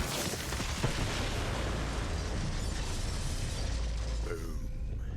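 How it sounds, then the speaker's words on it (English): A large explosion in the Borderlands 3 Bounty of Blood DLC, set in a forest and hitting a band of devil riders, a dense, sustained roar of blast and debris that fills the whole stretch at steady loudness. "The explosion echoed through the forest"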